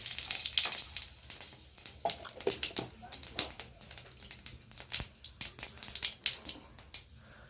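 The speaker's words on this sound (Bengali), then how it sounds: "আমার তেল গরম হয়ে গেছে, তো এখন আমি জিরা ফোড়ন দেব এখানে।" Cumin seeds sizzle in hot oil, crackling and popping in quick irregular bursts at moderate loudness, with a bright spitting hiss throughout.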